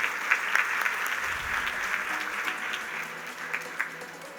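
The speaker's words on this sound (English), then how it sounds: "So a huge round of applause for all of you first." Audience applause for new students at a postgraduate orientation address, steady dense clapping from a large hall crowd that continues evenly throughout with a few sharper claps standing out.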